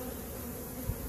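Honey bees hum at an open beehive on an apiary, a steady, dense buzz filling the whole moment, close and even in loudness with no talking.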